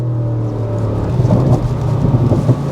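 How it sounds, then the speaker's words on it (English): A 2025 Audi RS6 GT engine drones steadily with a cluster of rough crackles and pops from the exhaust breaking through in the second half, close and loud. "Pops and bangs."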